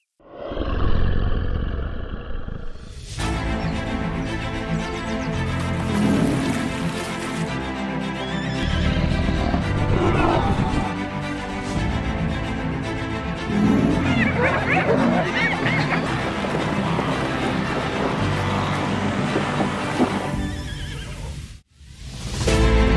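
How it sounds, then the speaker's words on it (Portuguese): A horse neighs and whinnies repeatedly, loud and fairly close, with other animal noises and rumbling mixed in, ending in a brief drop to silence. "Um relincho distante, seguido de silêncio."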